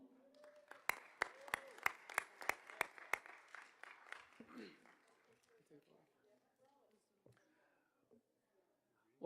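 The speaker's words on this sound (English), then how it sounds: "Big round of applause for Ms. Roan." A short run of sharp, evenly spaced hand claps, fairly quiet, with murmuring voices around them before the room settles, at a board of education meeting.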